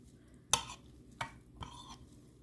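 Three separate scraping, stirring strokes of a utensil through a moist chopped spinach and sauce mixture in a bowl, fairly close and quiet, with pauses between them.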